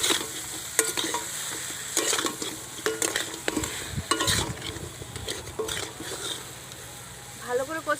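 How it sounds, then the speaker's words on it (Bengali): Fried crab is stirred through spice masala in a pan, with scraping spatula strokes and clacks over a steady oily sizzle, close and continuous throughout. "আমি ভালো করে নেড়ে নেব, যাতে মশলাগুলো কাঁকড়ার গায়ে লেগে যায়।"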